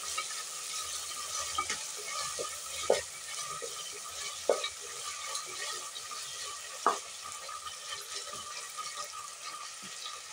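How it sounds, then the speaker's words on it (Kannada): Onion and ginger fry in a pan with a steady, soft sizzle, broken now and then by sharp scrapes and knocks as the pan is stirred, with no voices. "ಈರುಳ್ಳಿ ಬಣ್ಣ ಸ್ವಲ್ಪ ಚೇಂಜ್ ಆಗಬೇಕು, ಅಲ್ಲಿವರೆಗೂ ನೋಡಿ ಈ ಥರ ಫ್ರೈ ಮಾಡ್ಕೊಳ್ಳೋಣ."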